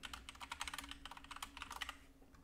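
Rapid, steady keystrokes on a computer keyboard while code is typed, a close, dense run of light clicks with no voice.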